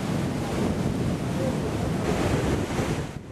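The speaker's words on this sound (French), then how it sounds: "Dans ce décor grandiose, le fleuve semble concentrer toute sa force, coulant avec puissance entre les parois de pierre." A great river in China surging powerfully through a stone-walled gorge, heard as a continuous loud roar of rushing water with wind buffeting the microphone.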